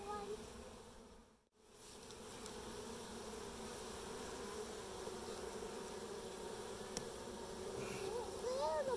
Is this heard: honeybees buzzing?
yes